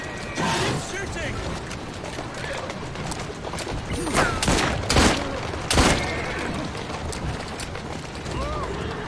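Scattered gunshots crack through a chaotic Assassin's Creed Syndicate street fight, several loud bursts landing irregularly among clattering movement and shouting voices.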